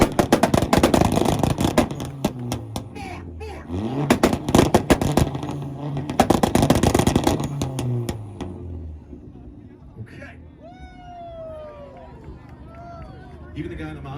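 A tuned Volkswagen car at a two-step rev battle fires off loud, rapid limiter bangs and pops for about eight seconds, then drops away to a quieter crowd murmur with scattered whistles and voices.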